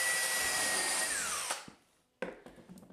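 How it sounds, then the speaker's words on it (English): A power drill countersinks a screw into a wood block, a loud steady whine that winds down and stops, followed by a few sharp bursts of the bit catching in the wood. "So I'll countersink a screw here"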